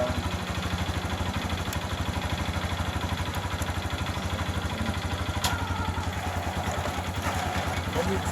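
A motorbike engine idles steadily on its stand with a low, even rhythmic chug throughout, while people talk nearby.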